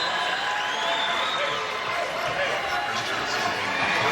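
A basketball crowd at a Big3 game applauds and cheers for Ice Cube sitting courtside, a steady wash of clapping and voices from start to finish.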